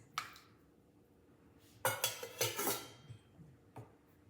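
Clinks and knocks of four eggs cracking against a bowl of pumpkin bread batter, a few sharp taps followed by a cluster of wet splats, close and fairly quiet.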